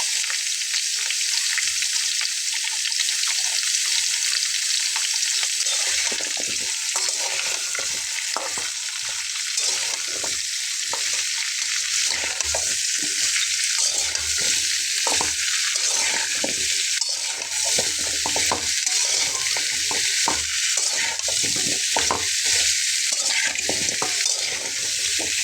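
Drumstick stems, potato, brinjal and tomato fry loudly in a pan with a dense, constant hiss, while a spatula scrapes and knocks against the metal in a loose, repeated rhythm close by.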